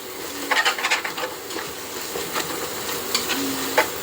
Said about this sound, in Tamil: நல்லா வதங்கிருச்சு இஞ்சி பூண்டெல்லாம் போட்டுருந்தா எண்ணெய் பிரிஞ்சு வந்துருச்சு